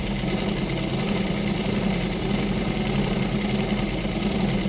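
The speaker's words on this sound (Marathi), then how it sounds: "मागच्या साईडला बोट ठेवायचं आणि शिलाई मारून घ्यायची अशी" A sewing machine stitching lace onto a short blouse sleeve hums in a steady, dense, loud drone that runs unbroken from start to finish, close up with no voices.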